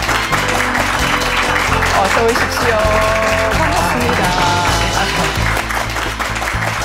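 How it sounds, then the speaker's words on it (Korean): Studio audience applause on a Korean television talk show welcoming Go player Lee Sedol 9-dan, steady loud clapping throughout with a host speaking a brief greeting over it and faint music underneath. "큰 박수로 맞아주십시오"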